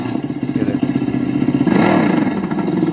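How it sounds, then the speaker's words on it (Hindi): A Revolt RV400 electric bike plays a simulated dirt-bike engine sound, idling with a rapid pulsing putter, then revving louder and rougher partway through, close and steady. "डर्ट बाइक का साउंड है। अब इसका साउंड सुना आप।"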